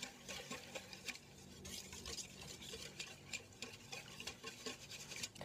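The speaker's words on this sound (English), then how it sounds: "Whisk that together." Ground flaxseed being whisked with water as an egg substitute for muffins, soft quiet rhythmic stirring and scraping strokes against a bowl, close and faint with no talking.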